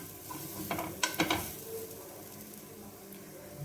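Grated coconut stirred through melted jaggery in a pan for sweet dosa, giving soft scraping and stirring with a light sizzle and a few sharp utensil clinks near the start, close and fairly quiet.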